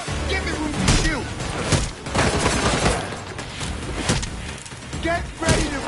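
Gunfire in the video game Gotham Knights, repeated shots and heavy impacts in a busy combat scene with thumps and bangs layered together.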